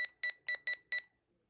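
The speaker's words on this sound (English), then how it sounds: "There's an alarm. It will go off at 7 a.m." A Reizen atomic talking alarm clock sounds its alarm with five sharp, evenly spaced electronic beeps, close and clear, then falls silent.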